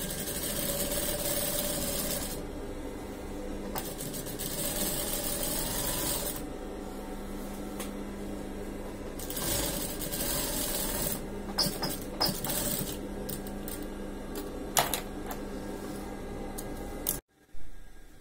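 Sewing machine running steady stitching along a seam of men's dress trousers, a continuous motor whir with pauses and restarts over about eighteen seconds, close and fairly loud with no talk.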